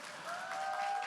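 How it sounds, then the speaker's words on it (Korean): An audience claps briefly, a soft, distant wash of applause that rises slightly over about a second, with a faint tone running underneath. "자랑스러운 아내, 자랑스러운 엄마에게 다시 한번 격려의 박수 부탁드리겠습니다"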